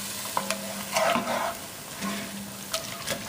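Liquid hits a hot pot of browned oxtails, giving a hiss and steady sizzle as the pan deglazes, with scraping and stirring sounds coming through close up and no talking.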